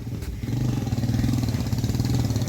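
A motorcycle engine chugs in a close, steady low pulse as the bike is pushed along a slippery road, its throb even and continuous throughout.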